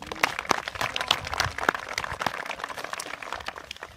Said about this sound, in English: I do want you all to give yourselves a round of applause